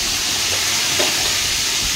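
Lobster fish fry in hot oil in a wok, giving a close, steady crackling sizzle with no pauses.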